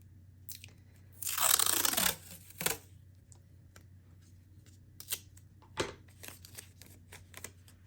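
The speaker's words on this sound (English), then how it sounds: "I'm just going to grab a few pieces of tape, and I'm just going to stick them on." Pieces of tape torn from a roll and pressed onto paper while making junk journal ephemera: one long crinkly rip near the start, then a string of short, close crackling tears and taps against a quiet hum.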